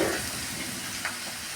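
Onions and vegetables sizzle steadily in a pan for snake gourd dal sambar, a close, continuous frying hiss with a faint stir partway through.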